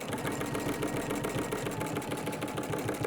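A domestic sewing machine runs steadily through a hem while sewing a Tamarack jacket, a continuous close whirring hum with a rapid needle rhythm, loud and unbroken throughout.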